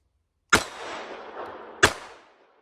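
Two sharp, loud gunshots from a Mauser HSc pistol in .32 ACP, spaced over a second apart, each cracking suddenly and trailing off in a long echoing decay at an outdoor range.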